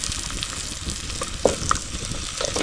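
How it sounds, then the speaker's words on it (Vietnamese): Banana stems frying in a pan, a continuous hissing sizzle with small pops and a couple of faint clinks from stirring, heard up close without speech. "Đây thì ông rán nó như này nhá ông nhá"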